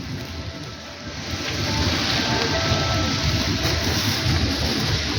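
Rain falls steadily in the centre of Berehove, a dense, even hiss of drops on pavement that swells slightly after the first second and stays loud, with faint town traffic beneath.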